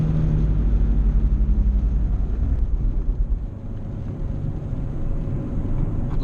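Nissan 370Z on track at Anglesey, heard from inside the cabin: a loud, steady low rumbling drone with a juddering shudder that eases off partway through, no talking.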